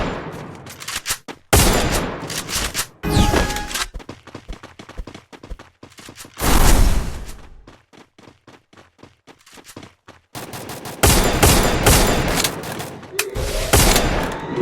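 Rapid bursts of gunfire from the Free Fire mobile game, with loud volleys and single shots broken by short pauses, one heavy blast midway, and no talking.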